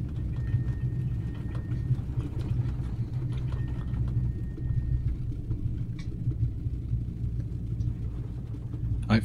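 Taildragger airplane engine idling during a slow taxi with light braking, a steady low rumbling drone holding close and even throughout, with a few faint clicks near the end.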